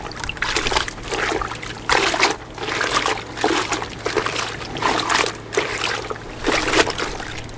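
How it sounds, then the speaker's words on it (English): Water splashes and trickles in uneven bursts, close by, as gear is rinsed under a flowing stream of fresh water after a saltwater rinse. "saltwater rinse, then freshwater rinse"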